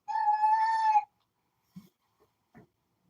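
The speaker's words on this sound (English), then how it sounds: "That's my cat again." A house cat gives one clear, tonal meow about a second long, followed by a few faint, brief bumps in otherwise quiet surroundings.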